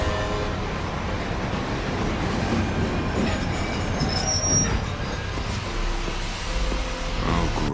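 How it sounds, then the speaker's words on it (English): A train rolls along in a video game, wheels squealing and rattling over the rails in a steady, sustained rumble with metallic screeches rising above it. "Go ahead and board the train."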